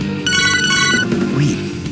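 Phones ringing in the video game Devil Survivor 2, a bright synthetic ringtone trill with stacked electronic tones, loud and close over game music and ambience, fading after about a second.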